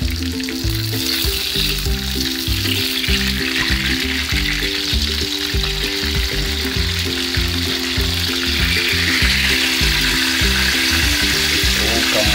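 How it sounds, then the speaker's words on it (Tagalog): Fish frying in hot oil in a home kitchen, a steady, loud, continuous sizzle that fills the whole stretch, with a low rhythmic background pattern beneath and no one speaking. "iprito na natin, salang na natin yung isda"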